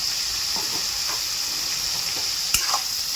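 Potato and eggplant pieces stir-fry in a pan with turmeric, black chili powder and masala, giving a constant close sizzle broken by light scraping stirs and one sharp clatter.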